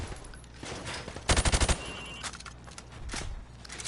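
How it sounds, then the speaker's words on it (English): Gunfire in Call of Duty Modern Warfare at a training range, shots aimed through wood at targets: a rapid burst of about six loud automatic rounds mid-clip, among scattered single shots and game noise. "I want you to shoot the targets through the wood."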